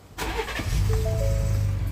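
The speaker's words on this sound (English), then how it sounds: "Now let's start the engine back up and let's see something." A Ford Expedition Max with a 3.5L engine starts up: a brief starter crank, then the engine catches and settles into a steady idle, close and clear.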